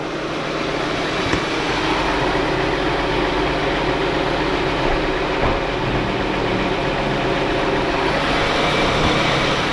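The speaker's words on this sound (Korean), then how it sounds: "네, 엔진 소리 괜찮습니다." A 2015 Kia K9 3.8 sits idling, a steady, even low engine hum with a smooth broadband hiss, close by and unchanging, with no voices.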